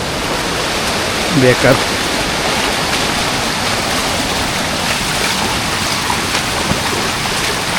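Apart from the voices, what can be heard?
waterfall in the Konkan countryside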